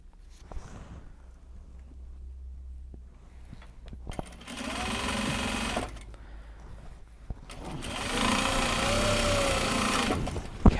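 Sewing machine stitching a seam through Japanese fabric while finishing gyoza bags, running in two loud, steady whirring bursts of about two to three seconds each, separated by quieter pauses.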